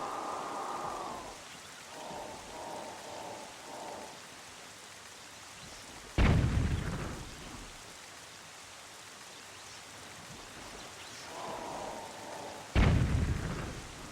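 Rain falls steadily in the video game Wind Waker Randomized, a soft continuous hiss broken by two loud thunderclaps, with short tonal in-game chimes drifting through the quieter stretches.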